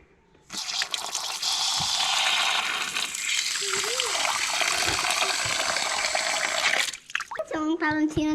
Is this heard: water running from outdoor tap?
yes